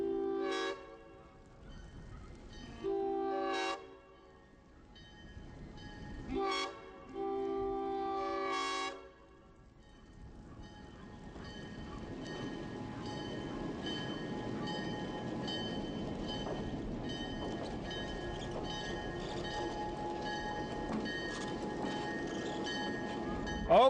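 A train rolls through the small town of Fillmore, its horn sounding in several long blasts before the steady rumble and clatter of the passing cars takes over at a moderate distance.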